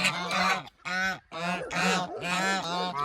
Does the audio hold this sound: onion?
no